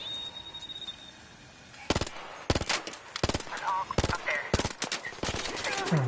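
Bursts of automatic gunfire in the video game Arc Raiders, several loud rapid volleys spaced a second or so apart over steady ambient noise, with brief talk mixed in.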